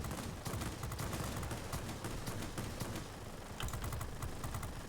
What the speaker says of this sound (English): Gonna just fire my machine guns